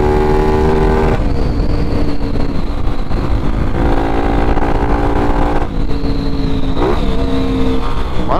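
A Honda XRE 299cc motorcycle rides along a corridor in the late afternoon, its engine droning loud and close with rising and falling revs through several gear changes.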